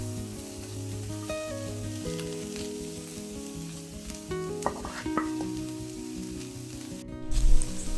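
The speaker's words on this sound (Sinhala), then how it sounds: "කෑලි මිරිස් එකතු කරගෙන විනාඩියකට විතර පස්සේ කපාගත්ත ගෝවා ටික එකතු කරගන්න." Chopped cabbage and chilli flakes fry in a pan for a Sri Lankan cabbage and lentil dish, with a bright, steady sizzle and scraping stirs, and a brief clatter near the end.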